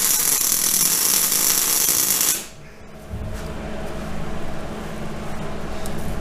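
Welding on a Ford Sterling 10.5 axle truss makes a loud, steady crackling hiss for about two seconds before stopping, followed by a lower, rougher mechanical rumble.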